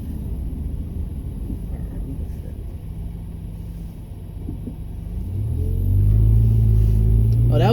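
A car passing on a Baltimore street, heard from inside a moving vehicle, its rumble swelling from the steady road noise into a loud, low whoosh over the last couple of seconds.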